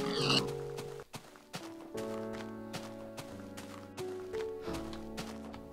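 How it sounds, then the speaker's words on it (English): Soft pig oinks and grunts sound over quiet tonal game music and light footsteps in Beta Minecraft, fairly faint throughout. "I hear a pig. I hear many pigs."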